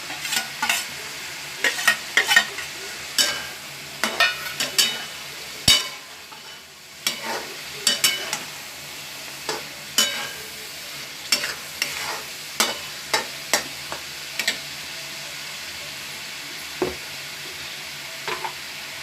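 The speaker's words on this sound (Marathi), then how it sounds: "आता ह्याच्यामध्ये ही माशाची अंडी आपण टाकणार आहोत।" Fish roe frying in a cooking masala in a pan, with a continuous sizzle and repeated sharp scraping strokes of a spoon stirring, loud and close, no talk.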